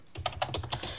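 A computer keyboard is typed on in a short quick burst of about seven close, crisp keystrokes, with no voices.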